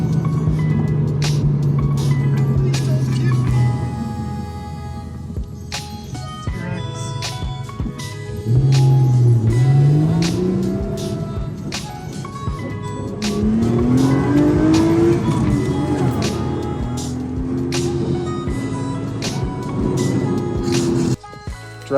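A car drives on a hot day with its trunk packed for a road trip, engine loud and close throughout, tone rising and falling as it accelerates and shifts, with occasional tire noise.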